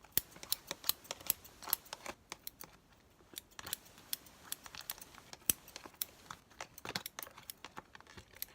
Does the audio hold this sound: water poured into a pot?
no